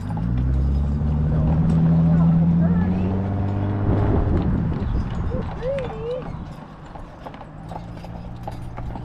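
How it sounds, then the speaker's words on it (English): Horse hooves clip-clop at a steady walking pace close by on an outing in Alaska, with people talking over them and a low engine hum underneath. "Oh, look at those horses."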